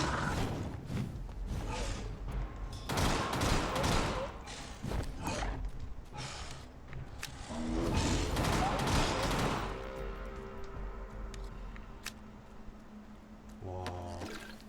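Heavy gunfire in a vampire action game, with bursts of rapid shots and clustered blasts that come and go over several seconds, plus thuds and mechanical clanks as the shooting fades.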